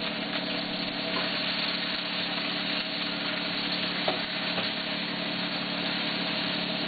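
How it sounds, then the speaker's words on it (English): Onions stir-frying in about two and a half tablespoons of oil in a wok for chili chicken, a dense, even hiss running steadily throughout with a faint low hum beneath and no talking. "Stir fry the onions in."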